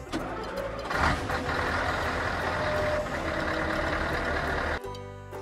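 A truck engine runs at a steady mid-pitched drone with repeated reversing beeps over it, close and continuous until the engine cuts off abruptly near the end, leaving faint tones behind.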